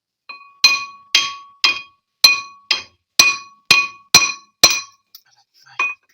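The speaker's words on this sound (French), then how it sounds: "Il faudra taper au marteau" A hammer strikes a stuck brake disc on a Peugeot 207 in about ten sharp, ringing metallic blows at a steady rhythm, each with a short bright ring, then a brief pause and one final tap.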